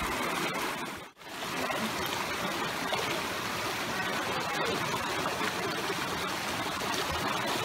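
The hot spring waterfall at Saturnia in Tuscany, Italy, gives a constant soft rush of falling, trickling water, unbroken apart from one brief dip early on.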